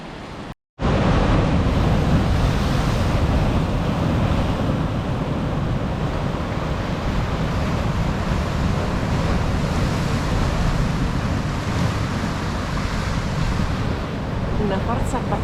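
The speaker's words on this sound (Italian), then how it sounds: "Una forza pazzesca questo mare, queste onde bellissime." Powerful sea waves crash against the rocky shore of Portovenere in the Gulf of Poets, making a loud, continuous roar of surf mixed with buffeting wind.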